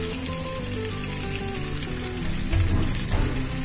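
Turmeric and coriander powder frying in oil in a pan for mutton paya curry, a continuous moderate sizzle and crackle that grows a bit louder and busier near the end.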